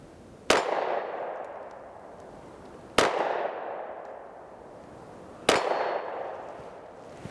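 Three separate shots from an IWI Masada S 9mm pistol at a shooting range, each a sharp, loud report followed by a decaying ring, spaced about two and a half seconds apart with quiet between them.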